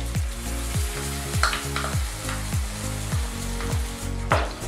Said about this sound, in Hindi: जो पेस्ट बनाया था हमने उसे डाल दें कढ़ाई में।